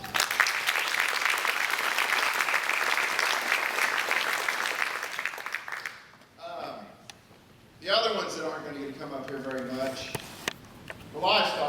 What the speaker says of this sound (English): I'd like to give those kids that at least tried something different a round of applause.